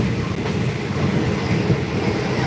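A passenger train running on rails from Bangkok to Surat Thani, a loud steady rumble of carriage noise with faint wheel clicks, heard from inside with no talk.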